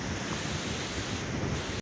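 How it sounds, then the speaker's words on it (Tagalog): Large ocean waves break heavily on the shore in a continuous loud roar of surf, mixed with strong wind buffeting the microphone, with no voices over it. "Laki talaga ng alon ay."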